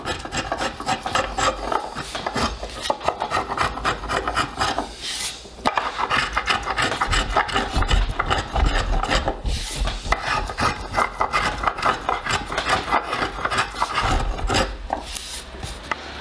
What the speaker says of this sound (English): This gouge has the perfect radius for this contour.